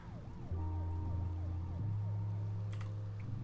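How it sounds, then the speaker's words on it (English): A police siren sound played from a device in a car wails in rising and falling sweeps, loud and close, over a steady low engine drone. "No, it just plays the siren sound."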